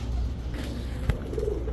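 Pigeons coo softly nearby at a seller's stall of Rampuri and high-flyer birds, a few low throaty calls over a steady background hum.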